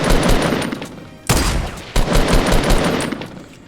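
Continuous loud gunfire in the Fortnite video game, a dense rapid stream of shots broken by two sharp heavier blasts, close and without talk.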